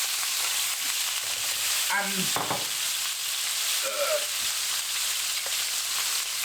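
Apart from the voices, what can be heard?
beef frying in a pan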